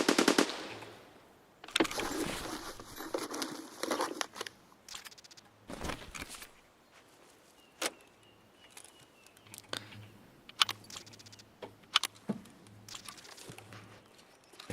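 Gunfire crackles in Escape from Tarkov: a rapid automatic burst early on, then scattered single shots and sharp cracks spread across the stretch, some close and loud, others fainter, between quieter pauses.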